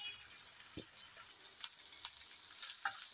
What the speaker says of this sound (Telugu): ఇప్పుడు మనం ఉడకబెట్టుకున్న లివర్స్ వేసుకుందాం.